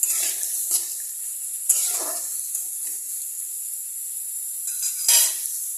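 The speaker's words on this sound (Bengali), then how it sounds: "তো এটাকে একটু নাড়িয়ে নেব আমি আগে" A frying curry mixture sizzles in a pan with a continuous hiss, broken by a few scraping bursts as it is stirred.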